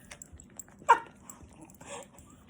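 A pet dog gives a single sharp yip indoors, followed by a softer bark-like sound, close and brief against a quiet background.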